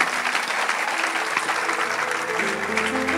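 A church congregation applauding at an evening service, sustained dense clapping from many hands at moderate distance, steady throughout with a faint background tone entering near the end.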